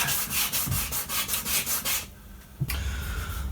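Sanding a yellowed Lexus GS430 headlight lens by hand with 800 grit sandpaper, alternating horizontal and vertical strokes: a steady run of close, rhythmic scratchy rubbing that pauses briefly before resuming.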